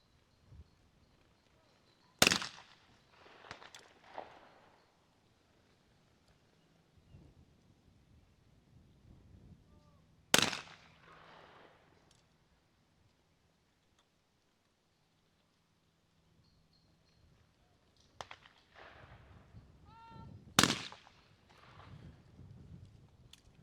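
Shotgun blasts ring out at a women's trap shooting final, three sharp, loud reports spaced several seconds apart, each trailing off in a long echoing decay across an open range.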